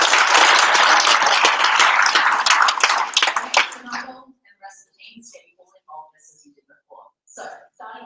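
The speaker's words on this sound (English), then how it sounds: "Big round of applause for Team 3." Hackathon audience gives a team a loud burst of applause for about four seconds before it stops abruptly, followed by scattered voices and small noises.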